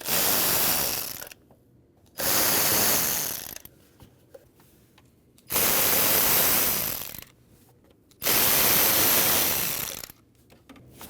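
A ratchet wrench loosens the 10mm bolts on the plastic engine cover of a 2012-2016 Honda CR-V 2.4L, in four loud bursts of rapid clicking separated by short quiet pauses.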